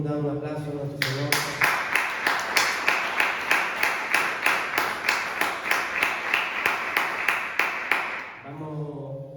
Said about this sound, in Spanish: Podemos dar un aplauso a nuestro Señor.